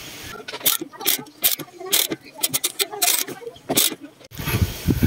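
Ratchet wrench tightening a stud nut on a car wheel hub, a run of rapid clicking bursts close up, with faint talk in the background.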